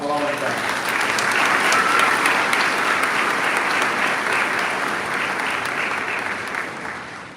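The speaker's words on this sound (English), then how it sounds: "How about a round of applause one more time for all of them?" Graduation audience applauding at a Georgia Military College main campus commencement ceremony, a loud, sustained wash of crowd clapping that tapers slightly toward the end.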